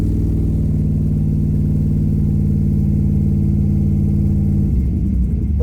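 Chevrolet 5.3 V8 with a homemade cold air intake idling steadily and close, a low even rumble holding for several seconds before a brief dip near the end.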